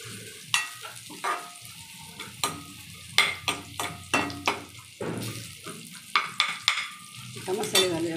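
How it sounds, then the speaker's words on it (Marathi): Garlic tempering with cumin and mustard seeds sizzles in a pan for a spinach dish, while a spoon stirs and scrapes in repeated sharp clinks over the steady frying hiss, close and fairly loud, with no talk. "कांदा नाही घालायचा पालकला, कारण कडक लसणाची फोडणी द्यायची मस्त खमंग"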